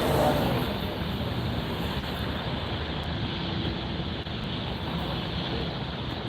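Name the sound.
Boeing 787-9 Dreamliner jet engines rumbling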